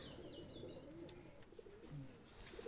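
Running pigeons, a KTM-line male and a Kubra Teddy female, coo faintly in a low, soft rumble with a few brief calls against a quiet background.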